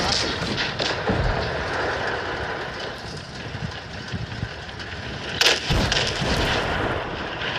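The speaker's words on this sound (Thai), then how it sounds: "คือมันยิงเร็วเกินไปอ่ะคันพวกเนี้ย" Tank cannon shots in War of Tanks, with an M4A3E8 and a Tiger I: a few sharp gun blasts spaced several seconds apart, the biggest near the end, over clattering engine and track rumble.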